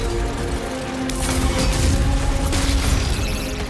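Dense, rapid weapon fire from Doom: The Dark Ages, a loud continuous barrage of mechanical shots and blasts layered over heavy rumble, with no voices.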